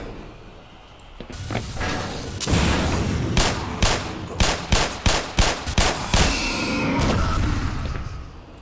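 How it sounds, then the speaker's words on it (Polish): Bursts of rapid video game gunfire in Black Mesa crack out in a quick rhythmic series, loud and sharp over a rumbling background, with no talking. "To będzie strzelina."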